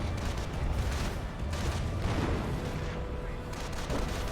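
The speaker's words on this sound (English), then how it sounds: "I think that explosion came from his allies' sector artillery" Sector artillery exploding in Company of Heroes 1, heavy booming blasts and rumbling battle noise spread through a continuous loud din, with a voice faintly underneath.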